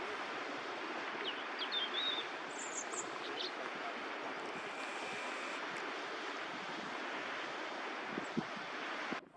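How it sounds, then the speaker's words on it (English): Sea waves wash over shallow areas of a receding low-tide shore below a cliff-top path, a steady broad rush of surf with wind buffeting the microphone and a few faint bird calls. "The tide was still actively receding, washing over some shallow areas and creating currents."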